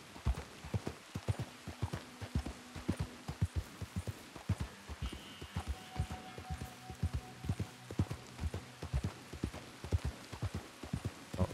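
Horse hooves in the video game Red Dead Redemption 2, a steady rhythmic clip-clop of many close, crisp hoof strikes at a walking-to-trotting pace, with faint ambient outdoor sounds beneath.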